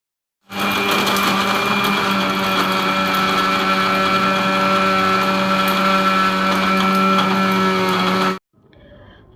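A mixer grinder jar grinding dried flowers, cloves, camphor, charcoal and cow-dung cake, a loud, steady motor whine for about eight seconds before cutting off abruptly.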